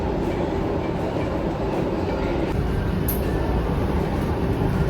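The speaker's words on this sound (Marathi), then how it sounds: "आता बघ ही ट्रेन 2 मजले खालून वरती आली" A Toronto subway train climbs to an elevated station, a loud, steady rumbling roar of rolling wheels and carriages, with faint rattles and clacks over the sustained noise.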